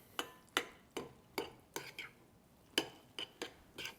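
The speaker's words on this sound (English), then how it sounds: "We're just gonna stir this up." A utensil stirs lobster roll filling in a bowl with about a dozen soft, irregular scraping clicks. The sound is faint and close, with quiet gaps between strokes.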